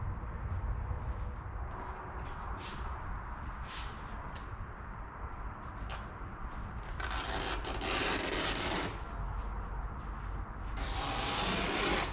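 Steady rubbing and scraping of material being trimmed for a Pontiac 6000 wagon interior refresh, continuous and close, with a few louder rasping strokes toward the end.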